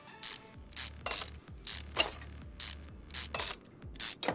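A ratchet wrench clicks steadily as bolts come off in Car Mechanic 2021, during an Aston Martin DBX build, with rapid bursts of sharp mechanical ratcheting repeating in an even rhythm, loud and close, with no talking.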